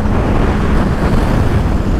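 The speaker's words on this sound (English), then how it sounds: "Oh, windy." Loud, steady wind buffeting the microphone, a dense low rumble filling the whole moment without pause.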